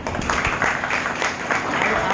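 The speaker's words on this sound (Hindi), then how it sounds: "तालियां" Steady, dense clapping from a gathered crowd at a retirement function in Dehtora, fairly close and sustained throughout with light voices mixed in.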